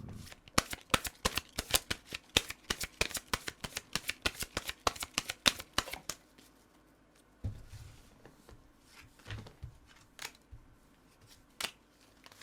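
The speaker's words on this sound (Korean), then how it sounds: "좋은 카드를 한번 뽑아보도록 할게요." Tarot cards being shuffled: a rapid, crisp run of riffling flicks for several seconds, then quieter scattered card handling with a few soft thumps.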